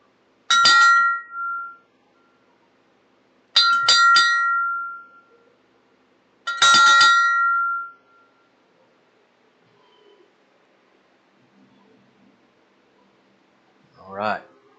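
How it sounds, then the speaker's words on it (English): Memorial bell at a community gathering struck three times, each ring clear and ringing out for about a second with long pauses between, followed by a brief faint sound near the end. "So we're going to have a bell ring for Kirby's dad, a friend of Wayne's"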